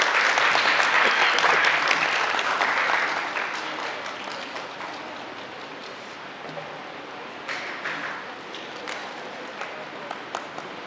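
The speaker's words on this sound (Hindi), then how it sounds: "आप जोरदार तालियों से स्वागत कर सकते हैं" Loud applause from an audience welcoming a poet to the stage at a national ballet and dance festival, thick clapping at first that softens to a lighter, lingering patter.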